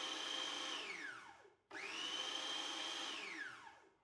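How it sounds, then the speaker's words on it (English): A food processor pulsing flour, cocoa powder, salt and sugar: two loud bursts of motor whine, each spinning up and winding down, with a brief gap between them. "To your food processor, add flour, cocoa powder, salt, and sugar. Pulse a few times to combine."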